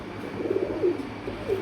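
Pigeons coo steadily at a pigeon farm, soft low rolling calls repeating close by over a constant background hum.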